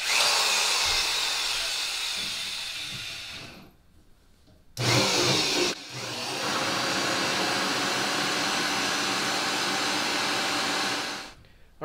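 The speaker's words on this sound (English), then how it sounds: "the hole saw is bottoming out right now" A 1 3/8 inch hole saw grinds loudly through wood for a center console in long steady bursts, briefly stopping twice before spinning up again, close and harsh, bottoming out.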